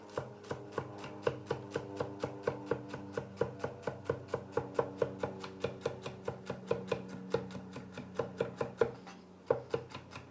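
A knife chops lined-up long thin strips of celery on a cutting board in a home kitchen, a steady run of crisp, close taps at a quick even pace, each cut alone with no talk.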